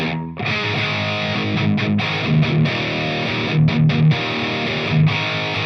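An electric guitar played through the distortion channel of a Fender Champion II 50 amp, a loud sustained fuzzy tone with a few brief breaks and bass notes picked over it, with no talking.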